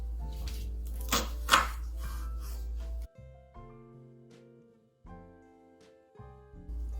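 A kitchen knife chops peeled onions on a board, several quick close strokes in the first three seconds, then quieter scattered taps with household sounds behind.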